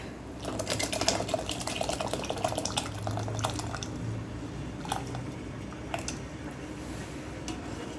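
Soaked moong dal poured into a cooking dish, wet splashy liquid sounds with small drips and squishes, steady and close throughout with no talking.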